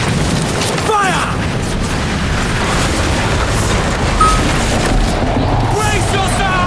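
Ship cannons fire in Assassin's Creed Black Flag: deep booms roll out over a constant roar of sea, wind and battle noise, with shouted voices mixed in.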